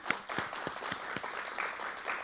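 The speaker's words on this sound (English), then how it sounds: "And I'd like to just give a round of applause to Melina Watts, who does so much." An audience at a watershed program event gives a round of applause, a modest, fairly faint patter of clapping from a smallish crowd with a few louder individual claps, no speech over it.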